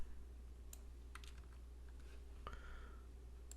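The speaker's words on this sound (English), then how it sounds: "we just typed just some text here" Brief, sparse computer keyboard taps, a handful of clicks over a steady low hum, with no talk.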